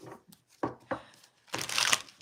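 Tarot cards being shuffled in a few quick riffling bursts, close and fairly quiet, ending in a longer, louder shuffle.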